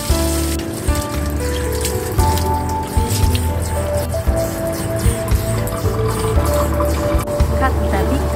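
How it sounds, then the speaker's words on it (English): Water splashes and runs over a chicken carcass as it is washed, with wet squishing, dripping and a steady pouring flow, some soft tonal background music underneath. "Remove internal organs and blood vessels from the chicken carcass using water."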